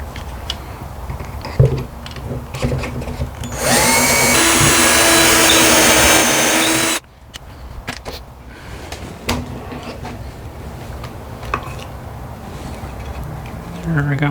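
A Kreg Jig K4 pocket-hole drill runs in a steady loud whine for about three seconds mid-clip. Workshop handling noises and clatter come before and after it.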